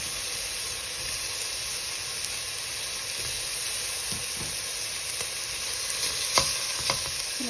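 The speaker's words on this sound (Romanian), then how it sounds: "Și lăsăm puțin să se prăjească." Cooking oil frying in a pot, the first step of a Transylvanian lettuce soup: a steady, close sizzle and hiss runs throughout, with a few sharper pops and crackles near the end.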